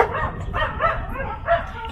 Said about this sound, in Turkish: Havlıyorlar.